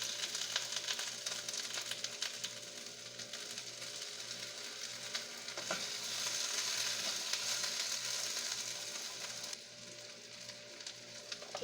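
Onions sizzle in a frying pan while hotdogs with potato are being cooked, a steady close hiss that keeps going for the whole stretch and dips slightly near the end.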